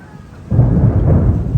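Thunder from a triple lightning bolt rolls in during an approaching afternoon storm in St. Charles, Missouri, a loud low rumble swelling suddenly after a quiet start and sustaining to the end, with rain in the background.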